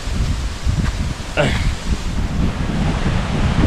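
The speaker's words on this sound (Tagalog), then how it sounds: "Oh, grabe hangin" Strong wind roars and buffets the microphone in a continuous rumbling gust, with a brief rustle partway through.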